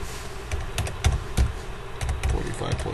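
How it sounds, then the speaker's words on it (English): Fingers tap calculator keys to enter numbers for a statistics variance calculation, a quick irregular series of small clicks close to the microphone with low room hum underneath. "let's type it in"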